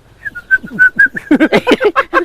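A caged bird calls in a quick run of repeated cooing, whistled notes, close and clear, building to a louder burst of calls near the end.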